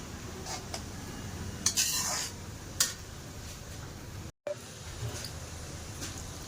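Metal spoon scraping and clinking against a pan as flattened rice is stirred in thick jaggery syrup, with a few sharper knocks and a brief silent gap.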